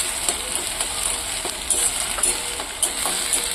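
Ginger garlic paste fries in hot oil with a loud, steady sizzle, and scattered spatula taps and stirring scrapes cut through it.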